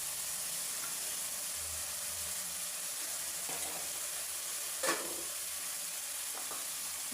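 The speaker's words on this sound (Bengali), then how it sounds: "তো কষানোর ভিতরে কিন্তু আমি দিয়ে দিলাম এই মাছটা, তার সাথে দিয়ে দিলাম এই টমেটোটা একটা কাটা।" Fish and a cut tomato sautéing in spice masala in a pan give off a steady, fairly quiet sizzle, with a few soft scrapes of stirring scattered through.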